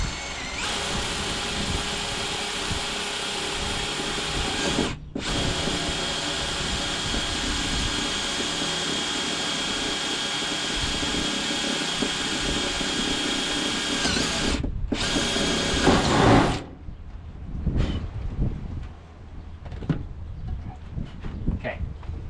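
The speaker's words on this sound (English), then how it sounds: "this bumper is fiberglass, so it won't be hard to drill" A power drill bores through the fiberglass bumper of a truck camper, a loud, steady whine that briefly pauses twice and then stops, followed by quieter handling clatter and faint rustling.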